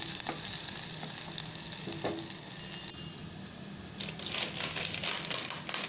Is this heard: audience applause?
no